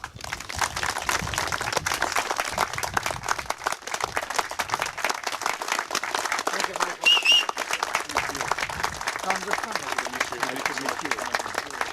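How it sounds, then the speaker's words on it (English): A crowd applauds steadily to welcome Medal of Honor recipient Hershel Woody Williams at the Gold Star Families Memorial dedication, a dense, sustained wash of clapping that stays loud throughout, with voices faintly mixed in. "Please help welcome a great patriot, a great American, a great man with a round of applause"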